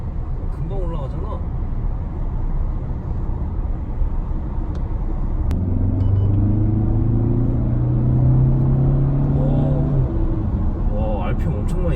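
A Volkswagen Arteon engine revving as the car accelerates, a steady loud rumble with a rising tone partway through, heard from inside the cabin.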